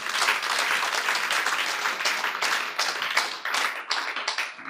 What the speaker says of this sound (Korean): 자, 박수로 주님께 영광 돌려.